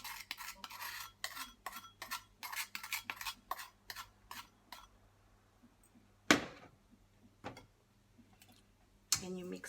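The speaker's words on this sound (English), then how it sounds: "And you mix with the whisk" A whisk beats sugar into melted chocolate and butter in a bowl with quick, rhythmic scraping strokes. Several louder knocks of metal on the bowl come after a pause.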